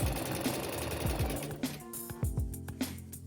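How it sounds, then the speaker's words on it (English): A sewing machine runs a rolled hem on a polka dot mini skort, giving a close, steady mechanical whir with rhythmic needle thumps that speed up and slow in short bursts, with no voices. "I've already uploaded multiple videos showing how to sew rolled hem both with and without the rolled hem foot."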